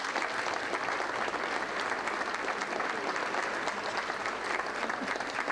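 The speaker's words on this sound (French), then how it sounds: "Vous pouvez aussi applaudir." Audience applause at a tribute evening, a sustained, even wash of many hands clapping that fills the room steadily for several seconds without letting up.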